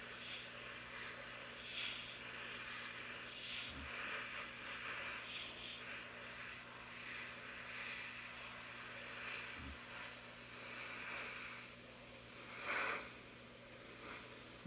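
A soft, steady hiss from a spray gun lays a light coat of translucent candy paint over a resin car body, faint and continuous, with a couple of small knocks in the background.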